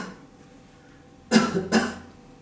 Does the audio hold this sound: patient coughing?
yes